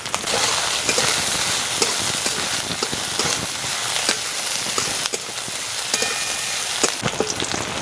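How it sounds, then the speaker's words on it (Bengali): Chopped onion, green chilli, garlic and ginger fry together in hot oil, a loud steady sizzle close by with small crackles and stirring taps, no voices. "এখানে পেঁয়াজ কুচি কাঁচা লঙ্কা কুচি রসুন কুচি আর আদা কুচি নিয়েছি সবগুলো একসঙ্গে দিয়ে দিচ্ছি"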